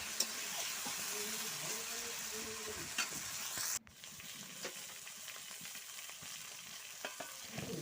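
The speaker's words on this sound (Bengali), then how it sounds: "অনবরত নাড়তে হবে, না হলে কিন্তু লেগে যেতে পারে।" Magur fish curry sizzles and fries steadily in a pan while being stirred, with soft scraping strokes and a brief lid or utensil clatter midway, close and fairly quiet.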